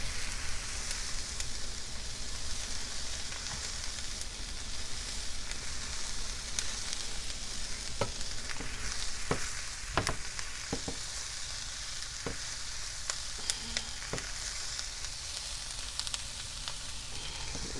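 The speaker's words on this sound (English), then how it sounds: "So I am going to let this fry up a little bit because we want the smoked sausage to cook and brown a little bit" Smoked sausage for Louisiana Creole jambalaya frying in a pot, a continuous close sizzle broken by several sharp scraping knocks of stirring in the second half, no talking.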